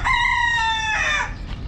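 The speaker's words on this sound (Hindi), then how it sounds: "मुर्गा कितना देखो" A rooster crows loudly and close, one long harmonic call that breaks off into clucking, heard among other chickens at a village farm in a Gulf country.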